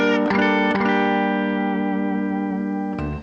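Donner DST-400 electric guitar played clean through a blackface Fender-style amp preset, with a few picked chords ringing out loud and sustained, then one final strum near the end.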